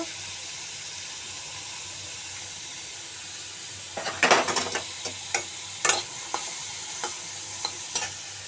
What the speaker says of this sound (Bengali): ওই যে বাদাম ভাজতেছি